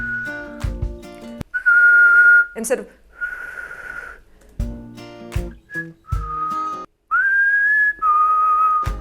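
A person whistles a melody in short, clear, pure-toned phrases with gaps and breaths between them, close and loud, and a few spoken words break in.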